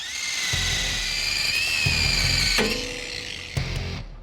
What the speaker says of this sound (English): The angle grinder has done its job